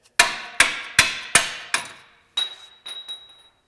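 Hammer blows strike metal while lowering springs go onto a MK8 GTI, five sharp ringing hits at an even pace followed by three lighter clinks that leave a faint metallic ring.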